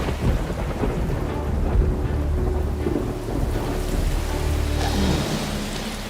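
Steady heavy rain pours with rumbling thunder rolling underneath throughout, a continuous dense wash of storm noise with no voices.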